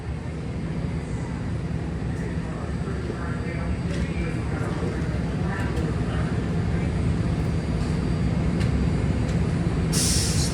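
Muni train rumbling overhead above a BART station platform, a broad steady low roar filling the whole stretch, with a hiss near the end and a voice speaking faintly.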